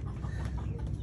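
Chickens cluck softly over a low rumbling background, a brief murmur of farm birds heard outdoors at a rural home.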